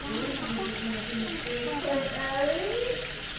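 Water pours steadily into a cooking pot of vegetables for Filipino bihon noodles, a continuous splashing stream with talk underneath throughout.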